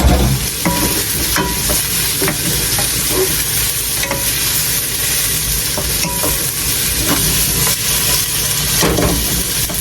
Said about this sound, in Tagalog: ihuhulog ko na yung kanyang sahog